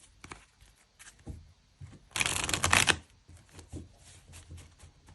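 Tarot cards being shuffled in a burst of dense riffling from about two to three seconds in, with quieter card handling and soft rustles before and after.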